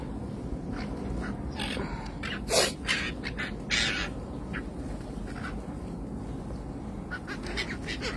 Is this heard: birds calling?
yes